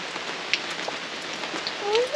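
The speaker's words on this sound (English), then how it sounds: "even though it's raining" Steady rain patters at a campsite, a soft continuous hiss of drops on surfaces, with a faint voice and a brief high squeak near the end.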